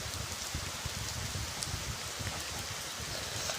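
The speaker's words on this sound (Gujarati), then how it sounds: "મસ્ત છૂટો વાયરા વગરનો વરસાદ આવ્યો છે" Heavy rain pours down without wind in Paldi, a dense, even hiss of countless drops striking surfaces nearby, steady and uninterrupted with no voices.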